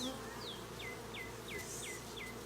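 Bees hum steadily around an open hive during beekeeping, a soft, even drone with a series of faint, regular high chirps repeating over it.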